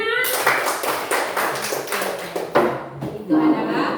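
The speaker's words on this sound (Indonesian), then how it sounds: "tepuk tangan semuanya" A classroom of students claps together in quick, uneven bursts at close range, with voices mixed in among the clapping.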